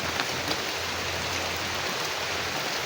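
Steady rain falls in a forest in a continuous, even hiss with a few faint taps of drops on a nearby surface.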